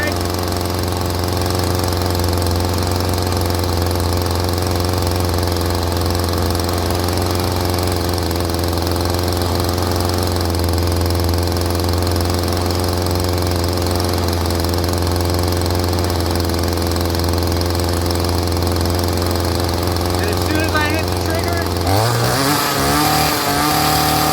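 Stihl string trimmer engine, one that would not rev up and kept stalling, idling a little high in a loud, steady, close drone that shifts abruptly near the end.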